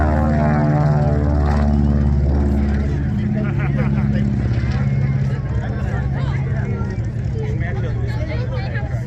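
The Expediter 3NM propeller aircraft, the Canadian Queen, banks around for its first pass at the Debert air show, a loud continuous droning engine over crowd babble and announcer speech throughout.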